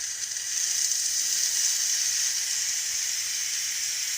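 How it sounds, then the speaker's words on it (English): A Ninja pressure cooker vents steam through its release valve after a chicken stock cycle, giving a steady, loud, continuous hiss that starts within the first half second and holds unbroken to the end, with no voices. "we're just going to release the pressure out of this"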